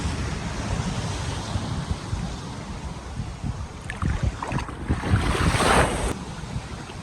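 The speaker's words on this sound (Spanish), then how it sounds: "Más que piscina natural, esto es una playa natural." Waves wash onto a small natural beach at Lagoinha do Norte, Florianópolis, a steady rushing surf with gusting wind buffeting the microphone and a louder swell breaking near the end.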